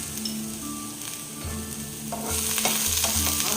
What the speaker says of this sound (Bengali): আবার একটু ভাজা ভাজি হবে।